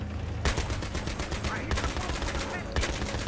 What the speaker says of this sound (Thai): กูยิงเล่นเลยกูยิงเล่นละ ยิงดิ